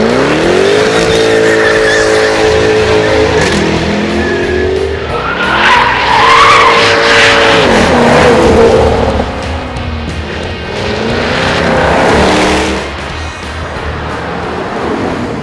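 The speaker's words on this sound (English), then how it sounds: "this sort of raw muscle car V8 engine note" A 2013 Jaguar F-Type V8 engine roars and revs through rising gear changes, deep and throaty, with tire noise and brief quieter moments between pulls.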